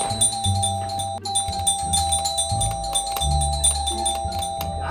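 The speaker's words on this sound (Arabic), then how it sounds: "قوم شوف مين اللي عمال يرن الجرس ده مش عايز يسكت ده" A doorbell chimes over and over in a home, its tones repeating in quick succession and filling the room without pause.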